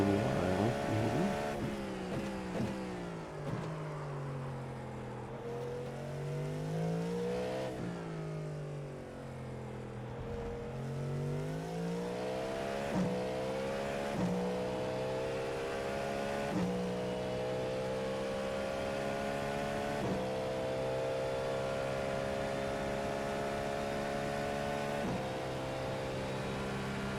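GT3 race car engines roar continuously in an IMSA racing video game, with rising and falling revs and gear shifts as the pack runs close together.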